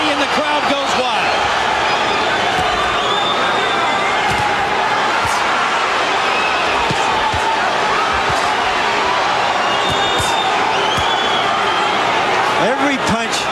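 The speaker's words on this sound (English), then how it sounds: "Tapia to the body and the crowd goes wild" A boxing crowd roars steadily through an arena bout, a dense continuous wall of cheering with occasional sharper shouts and thuds, while a commentator talks over it throughout.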